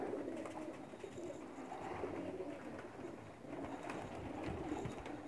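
Pigeons coo in low, soft murmuring calls that rise and fall continuously, close by, over a faint background rumble.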